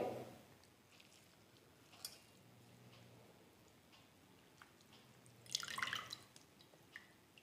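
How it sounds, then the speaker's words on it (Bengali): Water is squeezed by hand from boiled spinach, giving faint, sparse drips and soft wet trickles in a quiet kitchen, with a slightly louder splatter near the end. "জলটা এভাবে শাক থেকে নিংড়ে নিতে হবে"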